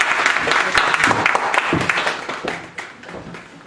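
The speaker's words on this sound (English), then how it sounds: "Please give him a round of applause." Applause from an audience at a symposium, a dense sustained wash of many hands clapping that stays loud throughout and tapers only slightly toward the end.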